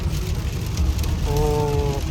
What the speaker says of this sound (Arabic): بس سمعوا صوت المطر